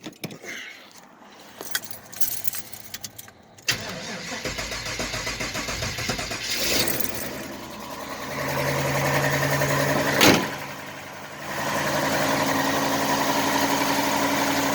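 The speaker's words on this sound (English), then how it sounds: "Fired right up. I hear a little lifter rattle." A car that had sat for about a week cranks and fires up cold after a few pedal pumps, then settles into a steady idle with a faint lifter rattle, keys jangling at the start and a brief revving surge.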